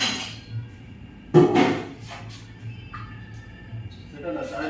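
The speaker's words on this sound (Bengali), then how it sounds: "এখানে এটা হচ্ছে তপবন রেস্টুরেন্টের রান্নাঘর। এখানেই সমস্ত যে মেনু, সেই মেনুগুলো রান্না হচ্ছে" Kitchen of the Tapoban restaurant near Midnapore during cooking, with a sharp metallic clunk of pots or dishes and scattered faint clinks under a person talking over a low steady hum.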